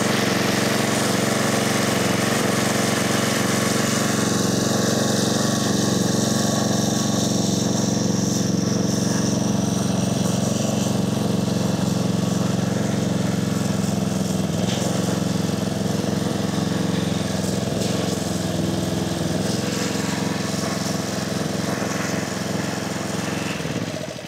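A pressure washer's small gasoline engine runs steadily at a constant high idle, a loud continuous drone with no speech over it.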